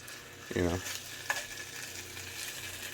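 Bacon and turkey fry in a pan with a steady low sizzle, broken near the start by a short burst of scraping as the meat is moved, then a single small clink.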